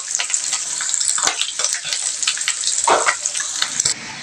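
Tinapa, smoked fish, frying in a pan with a steady, bright sizzle of hot oil, close and loud, broken by occasional crackles and the scrape of stirring.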